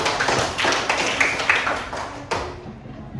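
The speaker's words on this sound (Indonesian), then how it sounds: "tepuk tangan buat kita semua" A fourth-grade class claps together in a classroom, a dense, steady patter of hands at moderate volume with a few sharper claps standing out, then trailing off toward the end.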